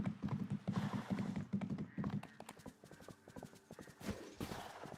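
Horse hooves clip-clop in a steady, rapid rhythm in the video game Disney Dreamlight Valley, loud and close, with a neigh and faint game sounds mixed in.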